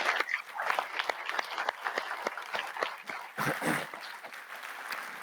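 Audience applause at a corporate manufacturing forum, a dense patter of many hands clapping at a steady level that swells briefly midway before settling, with no voices over it.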